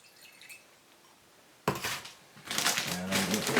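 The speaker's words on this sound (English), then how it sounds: "I'm just going to tip some of that water in there, preferably without all the old moss." Quiet room tone gives way to a sudden splash, then a sustained rush of water being tipped out of an orchid pot, sloshing and pouring for about a second.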